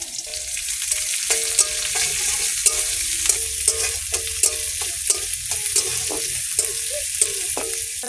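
Garlic strips sizzle in hot oil in a pan, with a steady frying hiss and repeated clinks of a utensil stirring against the pan, heard close and clear with no talk.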